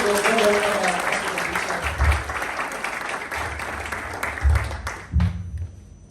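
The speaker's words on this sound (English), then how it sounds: "Clap, clap, clap, clap. Go." Audience clapping at a business masterclass, a dense wash of applause that swells and then tapers off, with a voice speaking over it and a few thumps near the end.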